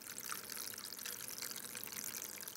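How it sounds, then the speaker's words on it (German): An indoor tabletop fountain lit by LEDs sends water trickling and splashing over three small steps, a soft, continuous bright babble heard up close with no voices. "Oh, das ist so toll, wie es hier über diese drei Stufen plätschert."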